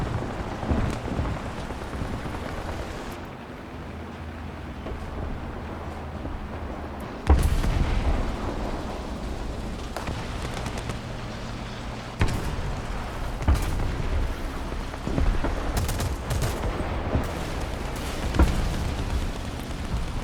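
American tank cannon fire in the War Thunder video game: a few heavy booming shots spaced several seconds apart, each followed by a rumbling decay over a low engine drone, with no talking.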